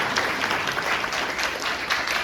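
Audience at a dinner event applauding, a dense, steady wash of many hands clapping at moderate distance, filling the whole moment without voices.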